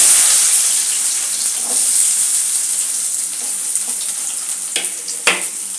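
Small onions frying in hot oil with mustard seeds and lentils for a bone-marrow and eggplant kuzhambu, a loud, steady, bright sizzle close up, with a few soft stirring clinks near the end and no talking.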